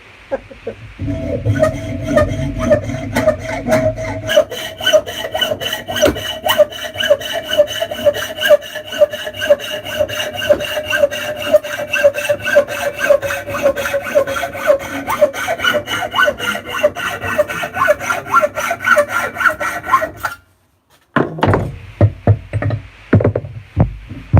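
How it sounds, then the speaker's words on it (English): Steady back-and-forth hand sawing through wood, long rhythmic strokes close by for about twenty seconds, then a brief pause and a few more rough strokes. "Let's just do some sawing."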